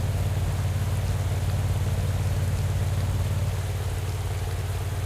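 Steady rain falls during a flat-terrain race in Pro Cycling Manager 2024, a constant hiss over a droning low rumble, even and unbroken throughout.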